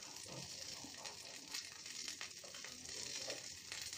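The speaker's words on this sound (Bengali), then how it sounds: "আর এর সাথে লঙ্কাটাও ভেজে নিচ্ছি" Green chillies frying in hot oil in a pan while cooking a Bengali silver carp fish curry, with a steady, fairly quiet sizzle and crackle running throughout and no talking.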